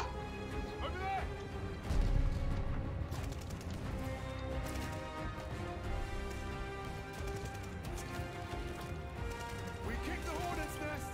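Enemy gunfire in CoD Vanguard, a World War II shooter, rattles in the background under a loud game mix with a heavy thump near the start, while a voice speaks over it.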